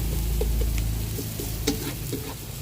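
Garlic and onion frying in a pan, a continuous close sizzle with small crackles and occasional stirring clicks over a low background hum.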